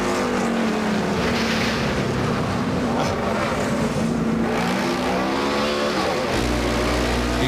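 NASCAR race car engine heard from an in-car camera at Watkins Glen in 1997, a loud continuous engine drone that rises and falls in pitch through shifts, with a commentator talking over it.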